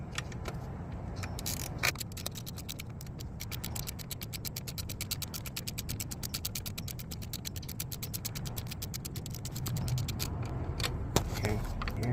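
A ratchet wrench tightens a bolt on the EGR valve of a 2003-2004 Ford Expedition 4.6L V8. Rapid, even clicks repeat steadily at close range throughout, over a low background hum.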